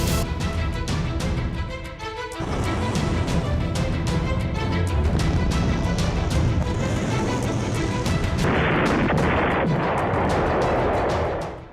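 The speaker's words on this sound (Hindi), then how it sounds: "तो 130 से ज्यादा रॉकेट की बौछार" A barrage of rocket fire in wartime footage from the Israel–Hezbollah conflict, with loud, dense volleys of blasts and cracking bursts, a brief lull, then more heavy booming fire, and no voices.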